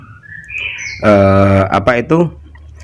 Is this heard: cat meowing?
no